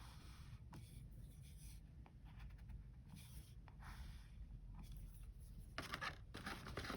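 Soft scratching and scribbling of a pen moving across paper, steady and close, with brief quicker strokes.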